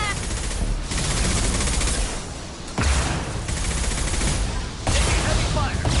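Sustained gunfire from a Mass Effect 2 battle, dense bursts of shots and impacts that keep going loud and close for the whole stretch, with a sharp heavy blast near the middle and another surge near the end.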